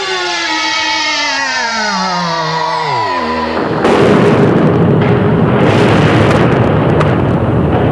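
Firecrackers going off inside a school: a falling whistling tone slides down for a few seconds, then a loud bang gives way to sustained crackling, sputtering bursts, with no voices.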